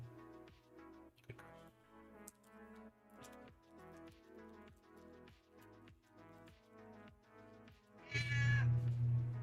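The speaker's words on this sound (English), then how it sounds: "If you can hear that, that is my cat who is on the table." A house cat meows repeatedly on a table near the microphone, a run of close, pitched cries in uneven rhythm that ends in a louder, harsher burst.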